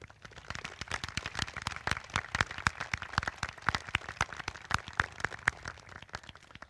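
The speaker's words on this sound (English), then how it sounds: "A special round of applause, please, for Mrs. Kate Antall and Mrs. Kristen Genna" An audience at a graduation ceremony claps in a fairly quiet, distant crowd, many individual sharp claps overlapping in a steady patter.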